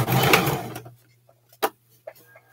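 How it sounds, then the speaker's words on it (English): A sewing machine back stitches at the start of a seam on short pants, giving one short loud burst followed by a few faint clicks and taps. "back stitch"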